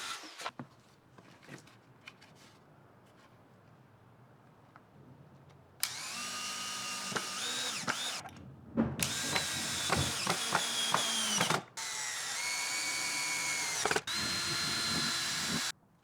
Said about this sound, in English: With the plywood now secured, I use a 5/8 inch hole saw to create the hole for that support pipe.